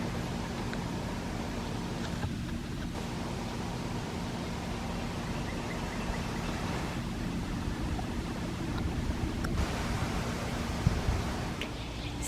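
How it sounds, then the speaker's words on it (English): Garden hose spraying water over plants and zinnias, a steady broadband hiss and splatter held at an even level for the whole stretch, with no talking. "So I'm out here watering"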